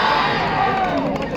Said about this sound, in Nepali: गण्डकीलाई हुटिङ आइरहेको छ